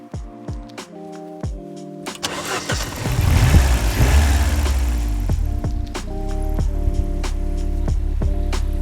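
A new-old-stock Ford Sierra Executive Cosworth, left-hand drive and two-wheel drive, is cranked and fires up, then settles into a steady, close idle after a brief rev.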